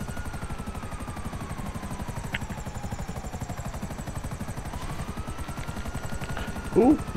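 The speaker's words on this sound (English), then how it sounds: "Helicopter smoking, but it's still going." Damaged, smoking helicopter in GTA V Online still flying, a steady rapid rotor chop with a droning engine throughout, loud and close, with a short clattering burst near the end.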